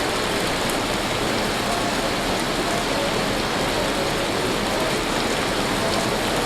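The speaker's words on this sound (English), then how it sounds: "We're in hail now." Hail pours down in the survival video game Vintage Story, a dense, steady hiss of countless tiny impacts that stays loud and unbroken throughout, with no voices.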